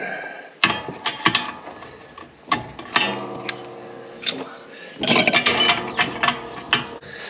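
A wrench working a nut on a farm planter makes intermittent metallic clicks, ratcheting ticks and clanks that come in irregular clusters, close by and fairly loud.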